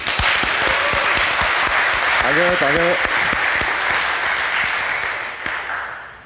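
A crowd applauds at a PowerPoint karaoke session during the MRMCD 2023 conference. The clapping is loud and sustained, a voice speaks briefly over it, and it thins out toward the end.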